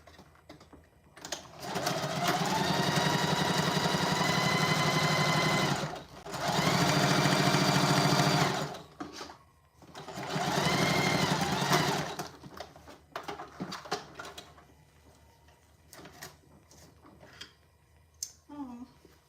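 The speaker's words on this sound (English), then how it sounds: "Yeah, this is a good sewing machine." A Singer sewing machine stitches the lining of a tote bag in three long, steady runs of rapid mechanical whirring, each separated by short pauses, followed by lighter clicks and handling sounds.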